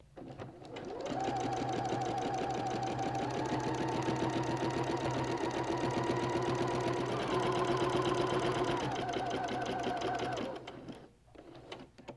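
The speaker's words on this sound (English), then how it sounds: "So I've got a very long stitch length set and I'm going to be stitching about 1/8 of an inch away from the" An embroidery sewing machine runs a long basting stitch around the edge of a quilted wall hanging, a steady rapid mechanical whirring that continues for about ten seconds, then stops with a few soft handling sounds.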